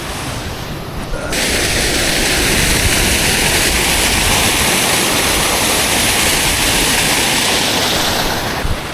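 A cold mountain stream rushes beneath a small bridge on a winter trail at Pen yr Ole Wen, giving a loud, close, steady roar of flowing water that holds unbroken throughout.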